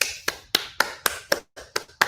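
Eight sharp hand claps spaced about a quarter second apart, close and crisp, forming a short applause-style rhythm with no talking.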